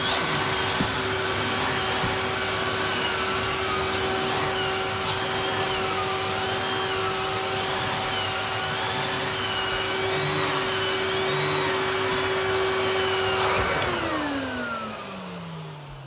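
A Numatic NVH370-2 Hoover vacuum cleaner runs steadily at close range with a loud constant motor whine, then winds down as it is switched off near the end.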